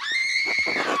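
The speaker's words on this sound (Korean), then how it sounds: "챕터하우스 쪽에서 비명 소리가 들려오는 것 같아." A sustained, shrill scream rings out from the chapter house of a medieval abbey in the video game Pentiment, loud and unbroken, with rough, breathy pulses beneath it.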